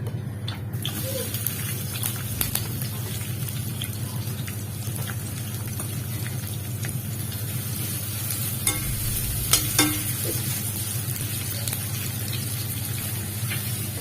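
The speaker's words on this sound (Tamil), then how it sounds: "எண்ணெய் காஞ்சிருச்சு. இப்ப நம்ம வெங்காயம் போட போறோம்." Onions go into hot oil for a chicken gravy and are stirred while they fry. A steady sizzle runs throughout, with low hum beneath and occasional light clinks and scrapes of stirring.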